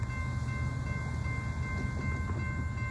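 A passing train rumbles close by, its rolling wheel noise and sustained tonal horn-like hum holding steady and loud, with no talk over it.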